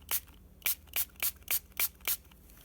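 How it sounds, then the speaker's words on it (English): Seven short hissing bursts of a DIY mica powder glimmer spray, pumped into a corner in a steady rhythm about half a second apart, close and fairly loud with brief quiet gaps between. "I'm going to spray it up in the corner"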